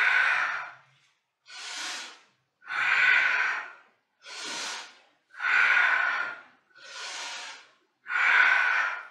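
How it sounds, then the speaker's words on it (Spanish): Loud, powerful yoga breaths drawn with a slight throat constriction during a Kundalini session, seven long rhythmic whooshes alternating inhale and exhale, close and alone with no talking. "Haz la respiración sonora, poderosa, haciendo un ligero roce, impedimento en la garganta, pero sin forzar."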